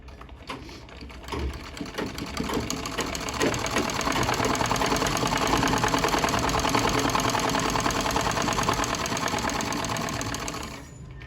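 A sewing machine stitches a straight strip onto a neckline in one long, steady run. The close, even mechanical whir starts after a brief pause and stops just before the end.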